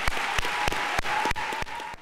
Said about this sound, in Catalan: siguem tots els que oferim un aplaudiment a aquestes famílies vostres